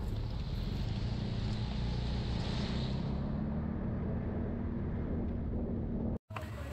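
A motorcycle rides across an uneven wooden hanging bridge, its engine droning loud and steady with rumbling wind over the microphone and a short dropout near the end.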